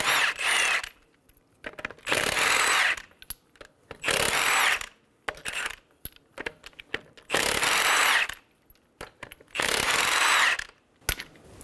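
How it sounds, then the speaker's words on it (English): A ratchet or power tool spins Toyota Camry lug nuts off with a 21mm socket, in five loud whirring bursts separated by short pauses and light clicks. "Using a 21mm socket,"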